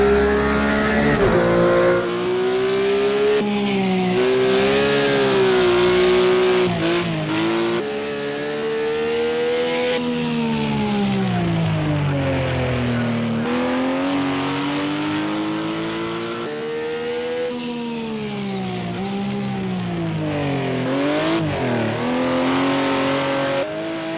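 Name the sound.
Porsche GT3 RS engine drifting in racing video game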